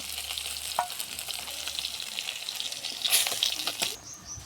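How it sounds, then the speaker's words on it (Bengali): Onions sizzling in hot oil in a pan after fish has been fried, a steady crackling hiss with occasional stirring clinks, close and loud, with no talk. "তেলে পেঁয়াজ দিলাম,"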